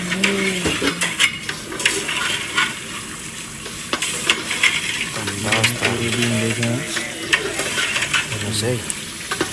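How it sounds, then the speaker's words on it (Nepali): Meat fries with spices in a pot for biryani, giving a steady sizzle and hiss with clinks and scrapes of stirring, close up, while a person speaks briefly now and then. "मसला खराएर मासु हालेर फ्राई गर्दैछु।"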